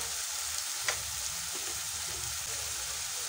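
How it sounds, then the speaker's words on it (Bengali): Spice paste for an egg curry, with added cumin powder, fries slowly over a low gas flame. It gives an even, continuous sizzle with a faint stir or two and no talking. "গ্যাসটা একটু কমিয়ে দিয়ে ভালো করে কষিয়ে নিচ্ছি।"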